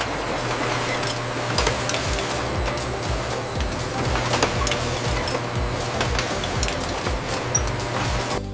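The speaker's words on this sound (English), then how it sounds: "The custom Coca-Cola labels are printed on massive, high-speed presses within the factory" A massive high-speed press prints custom Coca-Cola labels inside a bottling factory, producing a continuous mechanical clatter and hum with rapid repeated clicks and scattered clinks over steady machine noise, close and with no speech.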